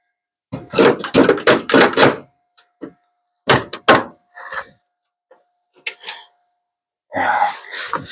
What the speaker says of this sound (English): I'm going to beat the hell out of it first with a hammer.